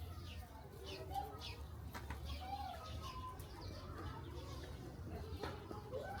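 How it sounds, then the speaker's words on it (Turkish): Poultry in a zoo or park enclosure clucking and cooing, with several soft calls scattered at moderate distance over steady outdoor background noise and faint voices. "kümes hayvanlarını koymuşlar"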